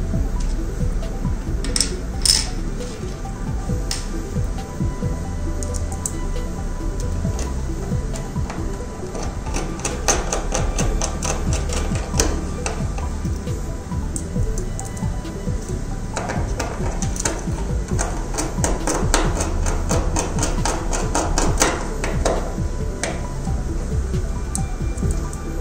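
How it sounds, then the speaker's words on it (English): A T6 bit driving three screws into the PCB of an IBM LTO-4 tape drive, with close, quiet bursts of rapid clicking ratchet ticks and small metallic taps and no talking. "After that we have to fix three screws."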